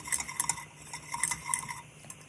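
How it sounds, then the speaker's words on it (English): Metal whisk scraping and clinking against a pan as flour is worked into melted butter for a roux, off the heat; a quiet series of irregular taps and scrapes without talk. "Add your flour and mix it into the butter with your whisk until you have a smooth but thick paste."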